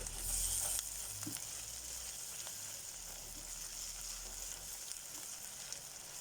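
Tomato paste stirred into a frying kidney bean and potato curry, with a steady close sizzle and the occasional scrape of a spoon, and no talking.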